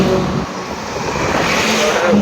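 A truck engine drones in a steady, close rumble during a brief stretch of a Kerala drive from Nilambur to Kanjirapally, with no clear talk over it.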